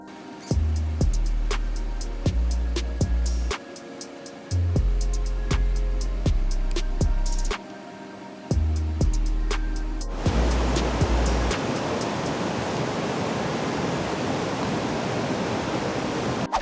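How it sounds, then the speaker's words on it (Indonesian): Deep, fast river current rushing steadily as a dense, continuous wash of water noise, loud and close, with heavy rhythmic low thumps over the first ten seconds. "karena arus yang deras dan dalam"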